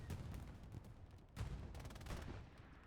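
Rocket fire and explosions in a video game match, heard as faint, rapid bursts of gunfire-like cracks with a couple of stronger blasts standing out partway through.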